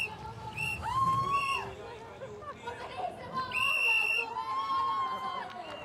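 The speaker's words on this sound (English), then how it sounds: "Lots of shrieking and whistling going on here." A crowd at the Red Bull Soapbox Race in Finland shrieks and whistles with rising, sliding whistle tones over lively chatter and shouting, loud and continuous.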